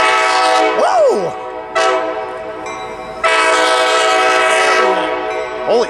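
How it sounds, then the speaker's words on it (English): A Coaster commuter train in San Diego sounds its horn loudly as it pulls into the station, with sustained multi-tone blasts broken by short gaps and a final short toot, heard up close with rail noise beneath. "it was nice to get a coaster honking into the station for the first time in a while"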